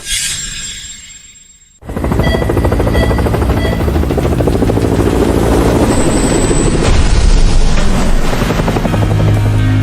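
Helicopter flying overhead, its engine and rotor roar cutting in abruptly after a quieter opening, then a loud steady rhythmic chopping that stays close and continuous, with no talk.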